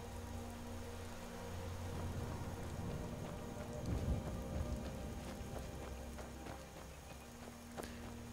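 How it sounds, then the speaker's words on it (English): Steady rain in the video game Skyrim patters on surfaces in a continuous wash, with a low rumble underneath and occasional louder drops. "It's raining."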